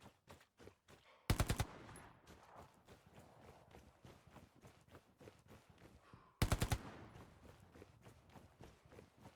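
Bursts of gunfire from the Hell Let Loose war game, two loud rapid volleys of several shots each, set against a steady patter of footsteps and movement through the environment; no talking.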